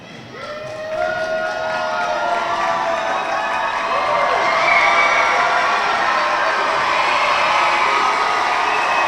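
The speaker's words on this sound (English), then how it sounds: "is the crowd getting rowdier as we go along here" A rowdy audience at the Sacramento County Academic Decathlon Super Quiz cheers and shouts in a sustained, loud swell of many voices that builds and holds throughout.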